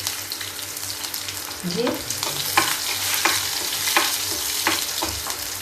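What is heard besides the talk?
garlic and chillies frying in oil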